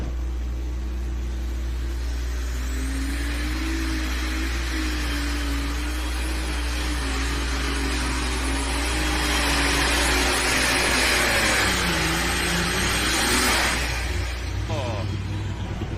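An open Superstock class pulling tractor, able to run on alcohol or diesel, roars loud and sustained at a championship tractor pull, its pitch wavering and climbing toward the end.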